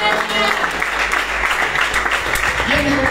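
A church congregation claps and cheers for the Lord, steady and close, with a voice speaking over the applause.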